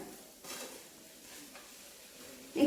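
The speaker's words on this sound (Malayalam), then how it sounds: "ഈ സബോളയും പിന്നെന്താ നമ്മുടെ മസാലയും എല്ലാം കൂടി ഈ ചിക്കനുമായിട്ട് നന്നായിട്ട് മിക്സ് ചെയ്യുക" A spoon stirs chicken with onions and masala in a pan: soft scraping strokes over a quiet, steady sizzle, then a sharper clatter at the end.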